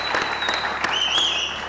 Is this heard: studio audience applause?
yes